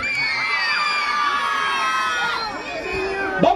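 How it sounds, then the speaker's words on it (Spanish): A crowd of children shouts and screams together at a live concert, building excitement before a band is introduced on stage. The shrill voices are sustained and dense, with a few louder whoops near the end. "El grito de los niños"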